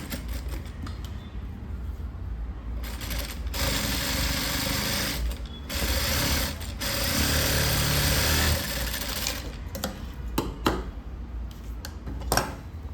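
A sewing machine stitches a line along a blouse lining during cross-cut blouse tailoring, running in loud, steady bursts separated by brief pauses.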